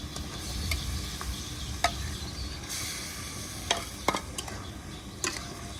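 A fish head sizzling and frying in spice masala, steady hiss of hot oil with occasional sharp crackles and spits, close and continuous with no voices.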